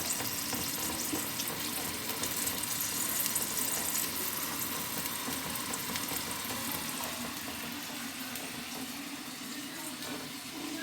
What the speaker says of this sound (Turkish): Şöyle şu taraftan da soğanı kavruluyor.